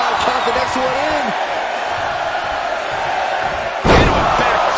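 A wrestler slams into the mat off a back suplex at the Royal Rumble, one sharp heavy impact rising out of a loud, continuous arena crowd roar near the end.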